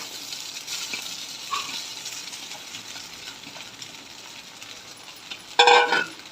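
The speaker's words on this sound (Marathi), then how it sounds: "थोडी हळद टाकून घेऊ छान प्रकारे मिक्स करून घेऊया भिजवलेले पोहे टाकून घेऊ" Soaked poha stirred with turmeric in a pan, a soft continuous scraping and faint sizzle with a sharper metallic clink burst near the end, no talk.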